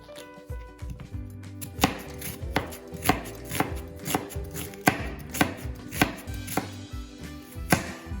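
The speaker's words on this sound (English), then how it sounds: "So first I'm going to chop the onion." A knife chopping an onion on a cutting board in quick, regular strikes, close and crisp, with a fast steady rhythm of sharp taps.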